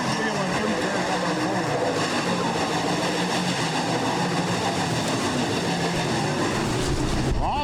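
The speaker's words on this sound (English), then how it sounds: "That Mopar powered number 19 machine. Looking to the inside of Van at top." Mopar-powered Midwest late model race cars roar around an oval track, a dense, loud, continuous engine drone with layered overlapping motors and no break.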